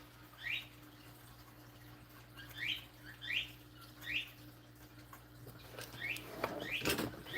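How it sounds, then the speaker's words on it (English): A pet bird squawks in another room, a series of short rising chirps repeating every second or so, faint and distant over a low steady hum, with a few louder clatters near the end. "Sorry if you can hear my bird going off in the other room."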